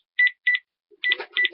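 Telephone number dialed with DTMF keypad tones: a handful of short, clear beeps in quick uneven succession, close and distinct, with faint rustling at the end and no speech.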